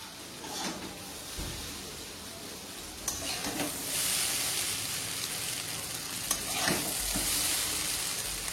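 Chowmein with egg sizzles gently in a pan while it is stirred, giving a steady low frying hiss broken by a few scraping stirs and clinks of the utensil against the pan.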